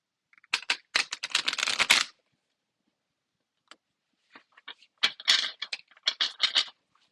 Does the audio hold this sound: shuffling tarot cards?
yes